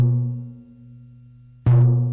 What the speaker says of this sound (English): we should curve our hand. Then we can get this dum sound.